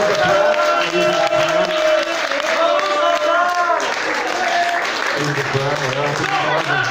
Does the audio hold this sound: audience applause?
yes